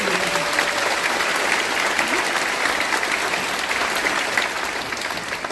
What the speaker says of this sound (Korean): 여러분 다시 한번 뜨거운 박수